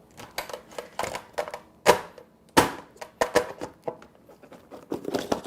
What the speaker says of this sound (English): Can try to bang out the milk ice.